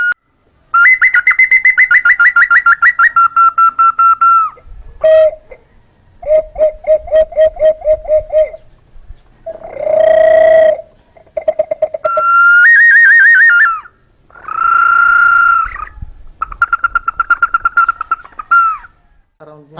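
Handmade Cordilleran bird-call flutes imitating birds, producing bursts of rapid fluttering whistles, cooing tones and trills in varied pitches, loud and close, played one after another with short gaps.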